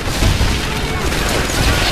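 A grenade blast in Medal of Honor Airborne, a World War II shooter, booms loud and dense amid continuous gunfire and battle noise, filling the whole moment without a clear single peak.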